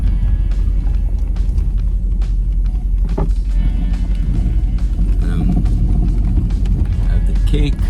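A car drives along a road in Jamaica, heard from inside as a constant low engine and road rumble with occasional clicks and rattles, while a person talks over it.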